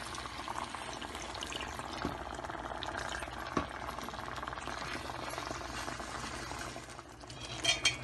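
Half a cup of water goes into chicken cooking in a pan, a steady bubbling, sizzling wash of liquid throughout with a few small knocks near the end.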